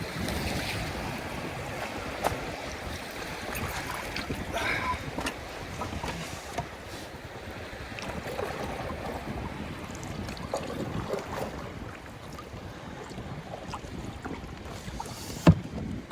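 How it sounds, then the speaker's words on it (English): A skin-on-frame skiff with a Hobie pedal drive glides over the water off Baja, with soft continuous splashing and lapping of waves around the hull, a light wind, and occasional faint knocks. "I probably should have mentioned in the intro that this is a pedal drive boat"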